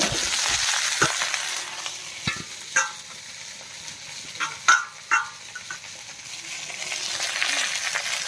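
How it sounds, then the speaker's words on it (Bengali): Onions and Malabar spinach greens fry in a pan for a Bengali greens dish, a steady close sizzle broken by several sharp clinks and scrapes of stirring, with no voices. "পেঁয়াজ দিয়ে দিয়েছি কুঁচ শাকগুলো দিয়ে দেবো"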